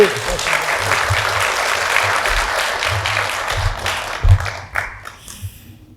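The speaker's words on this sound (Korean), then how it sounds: "박수 한번 더 보내주세요." Audience applause at a lecture and talk show on Lyuh Woon-hyung and Korean politics, a dense, loud wash of clapping filling most of the stretch before breaking into scattered final claps near the end.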